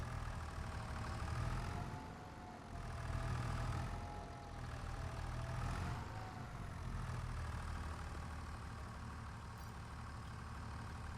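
A tractor engine in a farming video game runs steadily at a low drone, its pitch swelling and easing in slow waves, continuous and fairly quiet.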